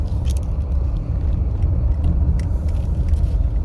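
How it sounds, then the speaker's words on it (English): City buses passing in traffic, a loud continuous low engine rumble close by with a few brief higher hisses from brakes or air. "Oh, all the buses, my gosh."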